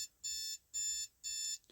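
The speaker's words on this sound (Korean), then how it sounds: "좀 아침에 하다 보니까 알람이 울렸네요." Morning alarm clock going off, three evenly spaced bursts of bright repeated beeping, each about a third of a second long with brief gaps, close and fairly quiet, no talk.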